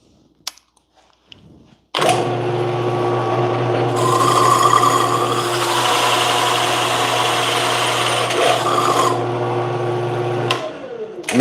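A dull, clogged toothed blade drones through a 3/4 inch sheet after a few quiet clicks, cutting loudly and continuously with a rising rasp midway before stopping.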